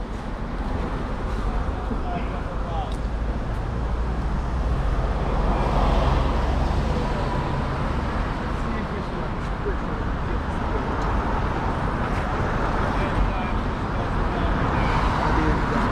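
Cars pass along a road beside a Jamaican market with a continuous low traffic rumble and wind noise. Voices talk over it now and then.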